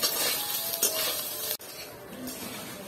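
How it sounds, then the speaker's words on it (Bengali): Soybean chunks frying in hot mustard oil in a wok give a steady close sizzle, with stirring and a few scrapes of a utensil against the pan, alone with no talk. "এবার সয়াবিন গুলো দিয়ে আমি একটু ভেজে নেব।"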